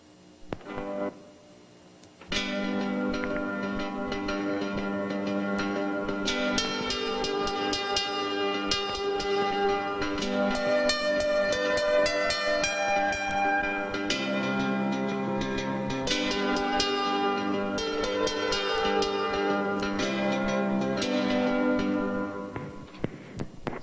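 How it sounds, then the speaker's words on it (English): A steel guitar plays a flowing melody with sliding notes over a full band accompaniment, steady and continuous, with no talking. "All of the notes from the melody are still present in this steel guitar melody."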